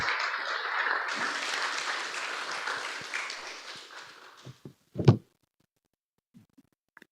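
A church congregation at a Sunday service applauds singers, a broad steady wash of clapping that thins out after about four seconds, followed by a few sharp knocks and thuds and then near silence.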